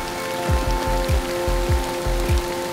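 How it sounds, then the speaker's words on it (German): Rain mixed with hail falls steadily during a rainy spell on an Albania road trip, with a dense hiss and regular low thuds of drops striking a surface. "es fängt jetzt auch noch an zu hageln"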